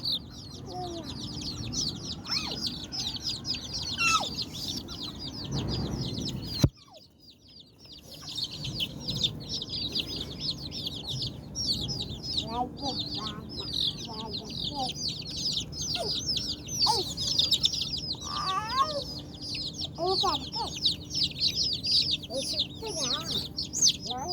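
Chickens and chicks in a coop as a child catches chicks: dense, constant high peeping from many chicks with occasional clucks, close and continuous, while people talk excitedly over it.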